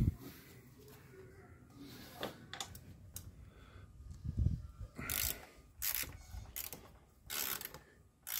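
A 6 mm wrench removes the screws of the side crash bars on a Yamaha Ténéré 700 World Raid motorcycle, giving faint, irregular metallic clicks and ratcheting scrapes close by with a few sharper knocks.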